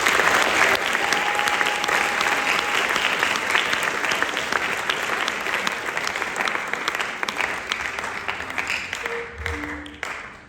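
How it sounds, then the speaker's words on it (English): A crowd at a school wind ensemble concert applauds the graduating class, sustained dense clapping lasting about ten seconds before fading out near the end. "Round of applause for our class of 2026."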